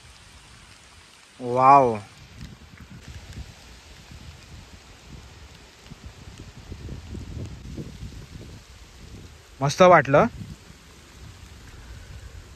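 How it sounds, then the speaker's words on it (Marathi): Steady rain falls at a lakeside nature spot in Mira Bhayandar, a soft, continuous patter throughout. A person briefly speaks twice over it. "आणि शेवटी पाऊस आलेला आहे बघा."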